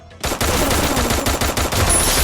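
Rapid automatic gunfire from the Free Fire battle-royale game, loud, dense and continuous bursts of shots filling the whole moment after a brief quiet start.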